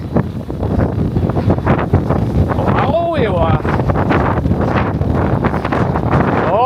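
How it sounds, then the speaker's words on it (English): Strong wind buffets the microphone steadily on a New York City street, roaring under a person's brief speech. "It's actually really windy."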